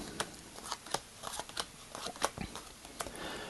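Playing cards are shuffled in a left-right shuffle for a card trick, giving quick, crisp, irregular snaps and riffles close up at moderate volume.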